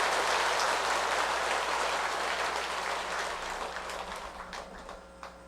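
An audience applauds to welcome a monk's dharma talk at a Buddhist temple service, a full, dense clapping that holds steady and then thins to scattered claps as it fades.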